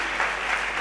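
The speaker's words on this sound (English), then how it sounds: "Please, an applause, because she participated and you didn't." A brief burst of dense audience applause fills a conference morning session, steady, broad and close, with no voices over it.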